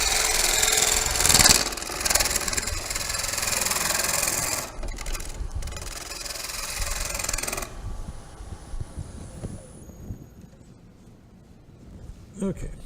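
Turning tool cutting a wooden bowl on a lathe, a loud rough scraping hiss that runs several seconds, pauses, returns, then gives way to the quieter hum of the spinning lathe, with talk over it.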